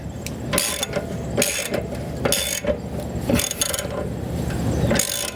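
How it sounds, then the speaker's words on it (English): A ratchet wrench tightening the anode rod on a suburban RV hot water tank, with several bursts of rapid clicking in an uneven rhythm, loud and close. "now I'm just going to move over to the wrench, switch it on for the right position"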